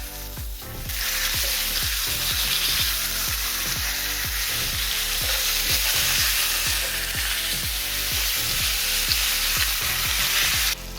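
A 30 cm bone-in tomahawk steak sears in a hot pan over low-to-medium gas, giving a loud, continuous sizzle with soft rhythmic pulses as the meat is shifted, close by and without voices.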